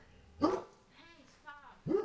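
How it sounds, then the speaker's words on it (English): Excited dogs bark twice in sharp, close bursts, with soft whimpering whines in between. "The dogs are very excited for you."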